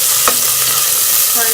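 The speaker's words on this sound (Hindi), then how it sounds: "मैंने प्याज के साथ लहसुन अदरक को भी अच्छी तरह से 1 से 2 मिनट जो है वो भून लिया।" Onions with garlic-ginger paste fry in a pan, giving a steady, close sizzle with a few soft stirring scrapes and no talk.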